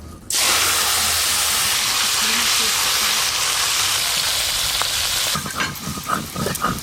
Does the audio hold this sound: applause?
no